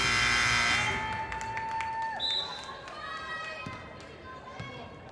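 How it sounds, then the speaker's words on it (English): A long, steady buzzer sounds over crowd noise in a gym, ending the first half of a high school boys basketball game between Sargent Central and Northern Cass. "So we'll hear the buzzer here in a little bit."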